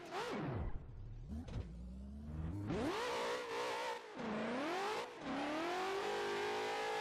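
Ford Mustang JTP race car with a Link ECU in Assetto Corsa, its engine revving hard and climbing through gears with sharp drops between shifts, loud and close with no talk.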